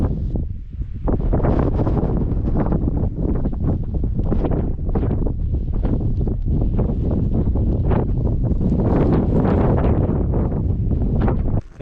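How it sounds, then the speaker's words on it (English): Strong wind buffets a wild camp pitch in the Peak District, a loud continuous roar with gusty rustling pulses throughout, no voices. "Getting a little bit of breeze, but you know, you're gonna, aren't you?"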